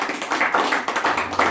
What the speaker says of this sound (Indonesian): Beri tepuk tangan yang mulia.